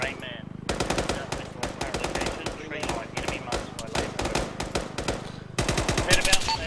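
Video game Cherokee Rising combat: loud, close bursts of automatic gunfire rattle in rapid volleys with short pauses between them, while voices call out over the shooting.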